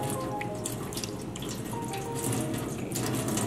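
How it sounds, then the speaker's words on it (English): Water runs steadily from a tap, wetting a cardboard sheet before it goes on a barrel, a continuous close splashing stream with no talk. "let us wet this cardboard first."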